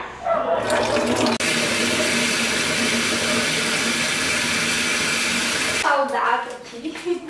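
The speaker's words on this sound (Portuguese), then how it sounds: "E agora eu vou encher de água." Water gushes loudly and steadily from a tap into a bucket for floor cleaning with bleach in a home kitchen, starting abruptly and running for several seconds before cutting off.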